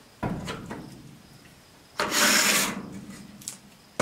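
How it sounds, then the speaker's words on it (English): A chisel or small crowbar prying at the lip of a school bus window during a conversion: a short scraping knock, then a louder, sustained grinding rasp for about a second, followed by a brief click. "Just have to pry it a little bit."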